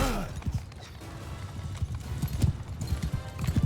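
Horse hooves clip-clop in uneven bursts through the Mount & Blade II Bannerlord battle, loud and close at times, with a brief whinny and faint game clatter around them.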